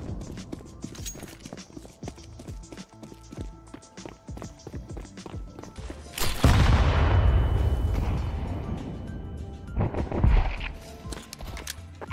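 In the GTA roleplay game a grenade goes off as a sudden heavy blast midway, with a long rumbling decay. A second thump follows, set against lighter scattered clatter and gunfire beforehand.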